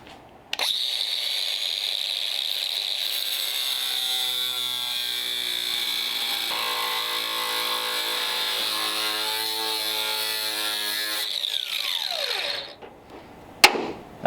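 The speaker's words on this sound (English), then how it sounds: "get the cutoff grinder out and split it" Cutoff grinder slicing through a seized nut on a 1939 Ford hot rod hood hinge, a steady loud high-pitched whine held for about twelve seconds before spinning down, followed by a sharp clank.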